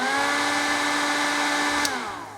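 A Chinese motorcycle's cooling fan makes a steady, fairly loud whirring hum with a tonal whine throughout, then begins to wind down near the end.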